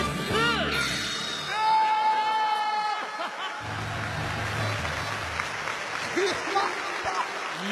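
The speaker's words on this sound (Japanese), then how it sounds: "いやもう大歓声ですよ" Large baseball stadium crowd roars and applauds after a pitcher blows a soft kiss toward the camera, a broad sustained wash of cheering with scattered laughter and a brief whistle-like tone early on.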